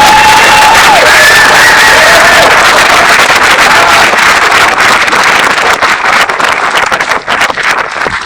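Loud, dense crowd of an audience at a school awards celebration cheering and applauding, a continuous roar of clapping and whoops with a few whistles, sustained for several seconds.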